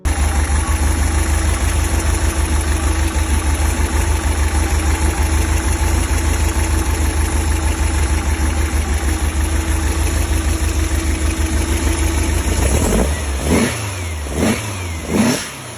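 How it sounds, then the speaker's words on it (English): A street-legal BCB fiberglass dune buggy with a Volkswagen-based drivetrain idles steadily with a loud, close, rough engine drone, then gives a few sharp revs near the end. "A street-legal BCB dune buggy built for serious performance, combining lightweight fiberglass construction with a powerful Volkswagen-based drivetrain and extensive high-performance upgrades."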